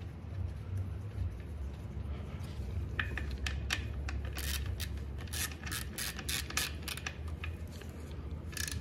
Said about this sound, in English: Tighten drain bolt.